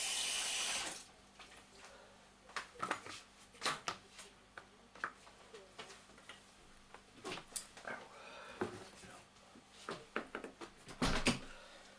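Baby sweet corn rinsed under a running kitchen tap, with splashing water and irregular clattering bursts over a low hum, close and fairly quiet, no talking.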